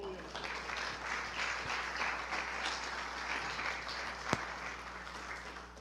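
A church congregation applauds during a sermon, a steady wash of dense clapping that holds at an even level for several seconds, with a few voices mixed in and one sharp knock near the end.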